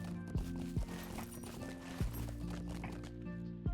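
Horses in the Lord of the Rings Online video game, heard as soft clip-clopping hooves and a few sharp tonal hoof or whinny-like calls against a steady in-game ambient bed. No one speaks.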